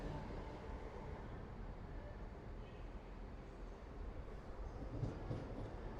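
An East Midlands Railway Class 158 diesel unit on a workday service, a steady low rumble of the train passing at a station, faint and continuous with no clear horn.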